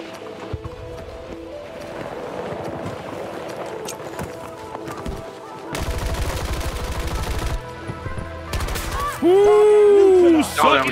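Gunfire in Battlefield 2042 crackles through a busy game mix, with a dense burst of rapid shots midway and other loud effects near the end, under voices talking.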